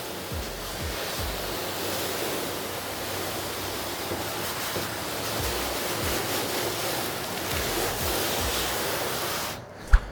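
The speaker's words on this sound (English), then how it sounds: "now we're gonna rinse it off, right? Get all that soap off." Water from a hose sprays over a soapy car hood during detailing, a steady close hiss and splash that runs on evenly, then cuts off with a brief click at the end.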